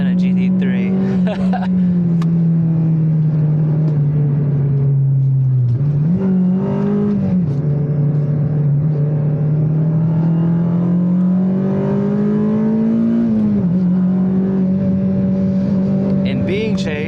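A Honda Civic Type R FD2 drives hard along winding Thai mountain roads, its engine droning steadily inside the cabin with pitch rising and dipping through gear changes and corners, loud and continuous.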